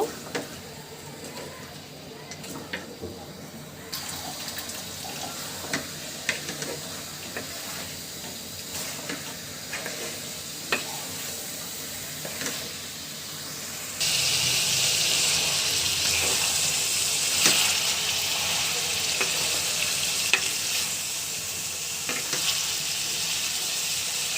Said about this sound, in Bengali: মাংস মশলা খুব ভালোভাবে মিশিয়ে নিব